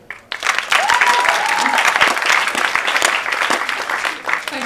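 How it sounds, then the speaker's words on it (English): A home crowd at an Oxford IQ2 debate breaks into loud, sustained applause and cheering that swells in at once and carries on throughout, with a few voices calling out over the clapping. "so it's a home crowd, obviously, that's cheering for me"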